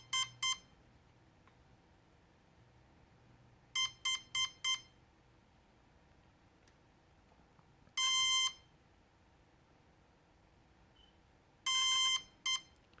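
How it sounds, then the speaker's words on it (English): Cheerson CX-20 quadcopter drone emitting a beep code: short bursts of clear high electronic beeps in separated groups, including longer tones followed by quick short beeps, in a quiet room. "So that's a long beep with 3 shorts."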